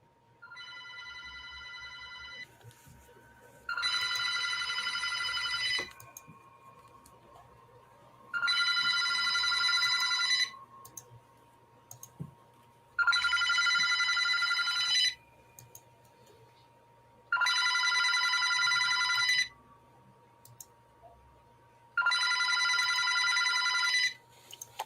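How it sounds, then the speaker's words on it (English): A telephone rings in five evenly spaced bursts, each a bright, buzzy bell trill lasting about two seconds with quiet gaps between, set against a faint low hum. "another phone begins to ring."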